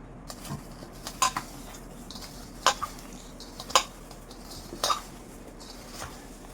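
Spoon clinking against a bowl while mixing soya chunk manchurian ingredients, four or five distinct sharp metallic taps spaced about a second apart over quiet background.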